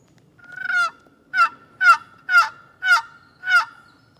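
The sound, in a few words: wild turkeys gobbling in answer to calls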